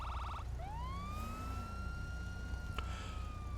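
A police car siren in Grand Theft Auto V rises into a long, steady wail after a short electronic warble, sounding moderately close against low engine rumble, with no one talking.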